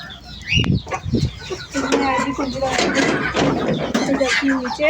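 Hen clucking near a home where eggs have been gathered, repeated clucks close by mixed with someone talking.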